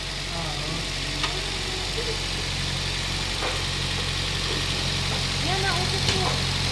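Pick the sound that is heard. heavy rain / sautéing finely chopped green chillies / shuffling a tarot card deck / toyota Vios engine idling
toyota Vios engine idling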